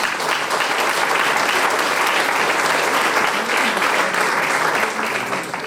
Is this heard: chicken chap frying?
no